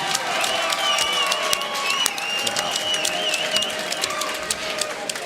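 A crowd at a bare knuckle fighting event in the Cheyenne Ice and Event Center, Wyoming, applauds in a dense, echoing arena roar of clapping, with whistles and shouts rising through it.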